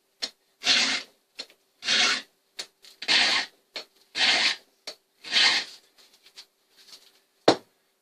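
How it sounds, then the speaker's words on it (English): A chainsaw chain sharpened with a hand file, about ten short rasping strokes at a brisk, slightly uneven rhythm, close and clear with quiet gaps between. "get your saw nice and sharp"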